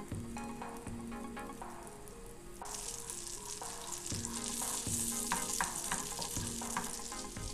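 Butter melts and sizzles in a pan as the base for a white sauce, a steady, close frying hiss that runs throughout with music playing underneath.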